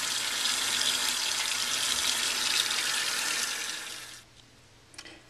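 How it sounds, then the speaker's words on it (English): Three cups of hot water pour into a high-power blender jar in a steady, rushing splash that runs for about four seconds, then stops abruptly, leaving a quiet room with a faint clink. "So I'm putting 3 cups of hot water in."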